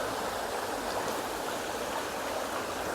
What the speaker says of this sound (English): The water's nice and turbulent in this bit, it's just disguising my approach a little.